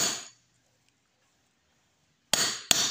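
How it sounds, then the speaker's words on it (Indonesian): A hammer taps a car steering rack worm gear into place, giving sharp metallic knocks: one at the start, then quiet, then two close strikes at the end. "pakai palu pelan-pelan ya,"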